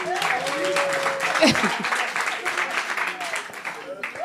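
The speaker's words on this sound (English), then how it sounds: "Let's give a round of applause for Unkat." A crowd at a student parliamentary session applauds the newly named Speaker of Parliament, broad steady clapping for about four seconds with voices and cheers mixed in.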